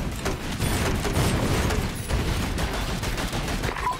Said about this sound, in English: Oh, it fires like a machine gun!